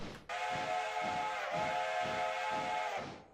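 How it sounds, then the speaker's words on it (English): A railroad locomotive's steam whistle blows in one long, steady, loud blast of several seconds, starting sharply and fading at the end over a faint rhythmic chuffing underneath. "Let me hear a confident whistle."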